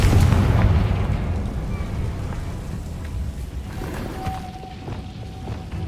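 Confringo explosive spell going off in Hogwarts Legacy video game, a loud booming burst at the start that settles into a sustained crackling rumble with small pops throughout.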